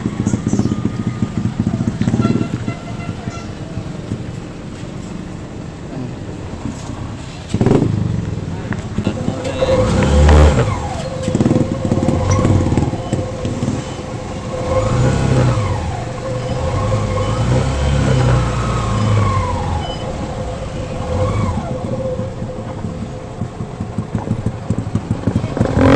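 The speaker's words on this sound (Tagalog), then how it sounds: "Traffic na naman, oh." Road traffic of cars and motorcycles hums steadily with engines rumbling and revving up at moments, loud and close, while people talk over it throughout.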